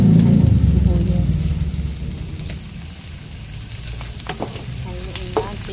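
Onions hitting a hot oiled pan for a bangus fish cake, a loud hiss that eases into a steady sizzle with stirring clatter, and a voice speaking over it.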